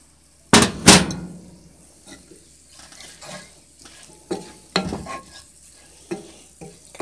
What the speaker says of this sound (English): I get it all mixed together and then I'm supposed to add the carrots in